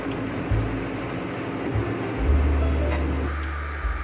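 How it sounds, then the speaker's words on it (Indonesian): Car windshield wiper blades squeaking and juddering across the glass in repeated low, rubbing strokes, fairly close and steady with no talking. "Apabila teman-teman wiper mobilnya berbunyi tukcit atau geradak"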